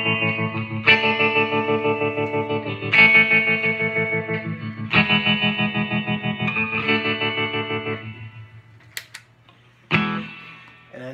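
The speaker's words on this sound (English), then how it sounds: "I have the reverb always on that, at least lately. That's really surfy." Electric guitar played through a pedalboard with reverb always engaged, giving a surfy clean tone: a run of ringing, sustained chords repeated in bursts, with washy reverb tails trailing off near the end.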